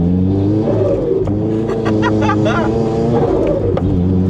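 HKS-turbocharged Toyota GR86 engine pulling through short-shifted gears, a loud, close, steady drone with rising harmonics and brief shift breaks, while people talk over it.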